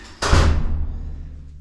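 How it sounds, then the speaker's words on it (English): A front door off a traditional Andalusian tiled entrance hallway swings shut with a single solid thud and a short ringing decay, loud and close with no voices. "let me just close this door behind me"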